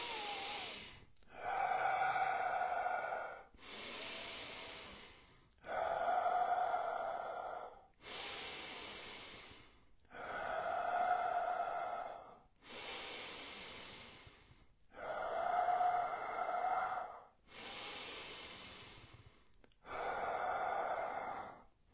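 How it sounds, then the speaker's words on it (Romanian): Slow, deep breathing exercise: about nine long inhale-exhale cycles in a steady rhythm, each breath loud and close, with short pauses between them and no talking. "Deci aceasta este modelul de respirație, da? Inspir, expir."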